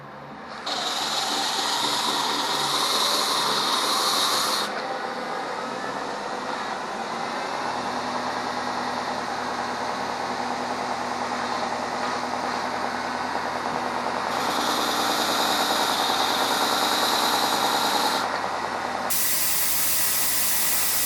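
Belt grinder running steadily for about twenty seconds as a belt thins the metal pins on a handmade chef knife handle, giving a loud continuous whir with brighter hissing grinding bursts near the start and again later.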